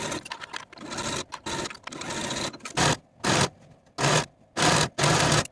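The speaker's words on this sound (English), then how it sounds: "Sew those seams with a 5/8 inch seam allowance and then finish your seams." A sewing machine stitches the seams of a velvet dress at a 5/8 inch seam allowance, running in repeated bursts of rapid whirring separated by short pauses, close and clear with no talking.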